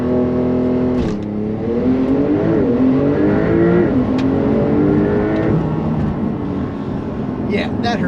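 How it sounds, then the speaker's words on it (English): A 2021 Porsche 911 Turbo S Cabriolet (992) engine revs and surges hard through rising gear pitches during a launch-control start, loud and close, with a voice speaking over the roar. "I'm gonna do a little launch control right here."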